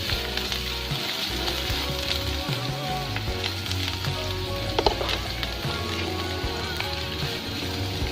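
Onion, garlic and ginger fry together in a pan for a home-cooked ampalaya and brown mushroom dish, with a dense, steady crackling sizzle over continuous background music.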